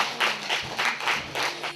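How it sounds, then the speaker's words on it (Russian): Audience applause for young performers at a stage concert, a steady patter of clapping hands with rhythmic swells, moderately near and without speech. "Громкие аплодисменты нашим юным артистам"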